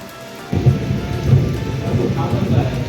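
Steady heavy rain pours down during an evening thunderstorm, with low rumbling thunder rolling in after a quieter start and continuing under the downpour.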